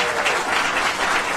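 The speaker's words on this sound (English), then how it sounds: "you're applauding us." An audience at a county committee worksession claps in a dense, continuous round of applause of steady loudness, with no distinct talk over it.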